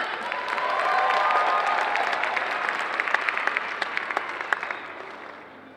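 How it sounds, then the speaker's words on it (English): Convention audience applauding at a cosplay contest, a dense wash of clapping that swells and then tapers off, with a few sharp claps standing out. "Another round of applause for Christina Dark."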